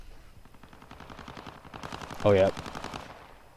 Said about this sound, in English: Got a bunch of gunfire up here.